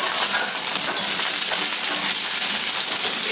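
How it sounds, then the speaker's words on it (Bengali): Pieces of ash gourd and pointed gourd fry in hot oil in a pan, making a loud, continuous hissing sizzle with light scraping and clinks from stirring. "সুন্দরভাবে চাল কুমড়োগুলোকে ভেজে নেব অ্যান্ড তার সাথে পটলগুলোও দিয়ে দিলাম।"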